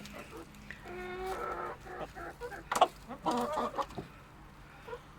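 Hens and roosters clucking busily while pecking at feed in a coop, close and lively, with short bursts of calls rising and falling and a voice faintly in the background.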